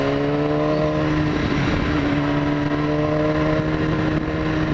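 A BMW motorcycle engine held at full throttle roars loud and close in a steady, strained drone, its pitch shifting briefly partway through as the bike downshifts.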